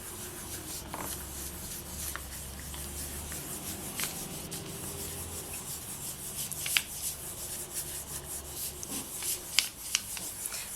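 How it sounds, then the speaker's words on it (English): A polymer clay cane is burnished with a soft, steady rubbing and scraping close up, continuous and quiet, with occasional tiny clicks as the surface is smoothed. "all I'm going to do is I'm just gently going to burnish."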